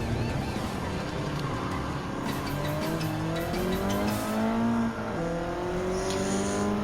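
A Toyota GR racing a 2002 Honda NSX Type R in Gran Turismo 7, engine whine rising steadily through the gears with tyre squeal, loud and continuous.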